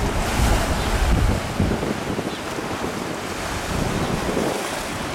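Sea waves breaking against a rocky headland, a loud continuous roar of surf with heavy wind rumble, strongest at the start and then settling into a steady wash.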